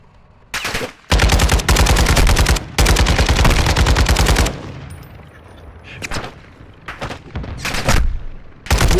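Loud video game gunfire from a Vegas match: long sustained automatic bursts near the start, then shorter separated bursts and single shots.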